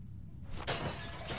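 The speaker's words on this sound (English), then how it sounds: "Use the bat to shatter that window so you can reach in" Window glass shattered with a bat: a sudden loud crash of breaking glass after a quiet lead-in, followed by a sustained bright spray of falling shards close by.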